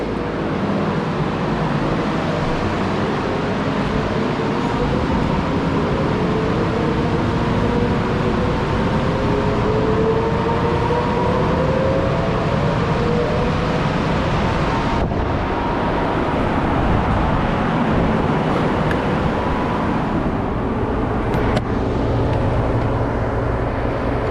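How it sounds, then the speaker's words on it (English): Shop fans blow a steady, loud broadband rush of air through a garage, constant for the whole stretch with no talking, over a low rumble. "Turn these fans on to get some fresh air moving through here."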